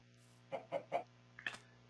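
Chickens cluck in a short burst of four or five calls, fairly close and clear over a steady low hum, with no talking.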